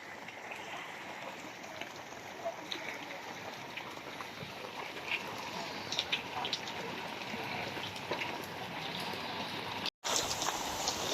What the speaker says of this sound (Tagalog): Lalo lumalakas ang ulan mga kamatik.